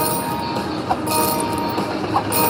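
A casino slot machine's mini train bonus plays a mechanical rail-style effect, a loud steady rumble with clinking accents and a brighter burst near the end.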